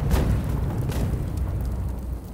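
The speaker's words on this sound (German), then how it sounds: "Diese britischen Kanonen haben es wirklich in sich." Heavy British cannon fire in the samurai action game Rise of the Ronin, a loud sustained booming roar with a sharp blast at the start and rumbling low-end that stays dense throughout, no talking.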